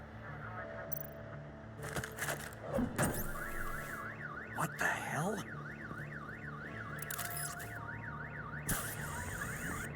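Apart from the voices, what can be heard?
car alarm set off by bat stunner, Batman video game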